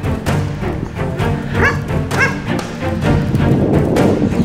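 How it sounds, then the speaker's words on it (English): A dog outdoors barking in several short, sharp yips spread across the moment, fairly close, over a busy background of ambient noise. "Oh, my dog barked."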